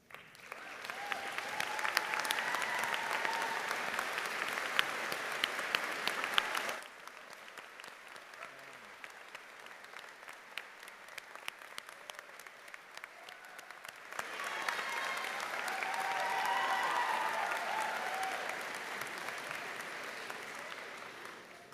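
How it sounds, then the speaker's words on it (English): A graduation ceremony audience applauds the faculty, steady dense clapping from a large crowd that stops abruptly, leaves a quieter stretch of scattered claps, then swells again into a second full round. "Well-deserved round of applause there."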